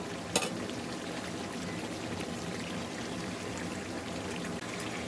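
Lukewarm water poured into a pan of chicken cooking with mango, a continuous soft hissing pour and sizzle at low level, close by with no talking.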